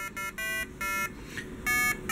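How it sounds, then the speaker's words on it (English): Buzzer on a breadboard stereo amplifier circuit sounding in a series of steady, loud electronic beeps of uneven length, with short gaps between them. "first thing you're going to hear is the buzzer, and then it'll start playing its tune"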